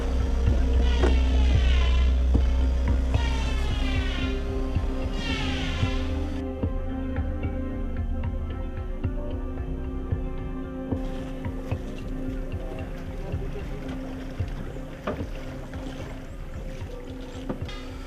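An outrigger sailing boat (kapal cadik) moving on open water, with a steady wash of water and wind against the hull, plus a low rumbling hum early on, continuous and fairly close, with no talking.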